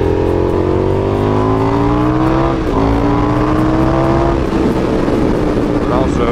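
Motorcycle engine heard from inside a full-face helmet through a chin-curtain mic, a steady loud drone rising in pitch as the bike accelerates, dipping briefly at a gear change and then climbing again, with wind rush underneath.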